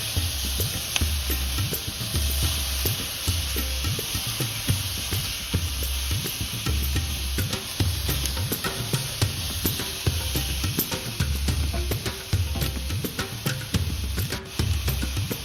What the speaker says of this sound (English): I'm going to keep it moving in this hot pan because I don't want it to stick to the bottom and burn and go bitter.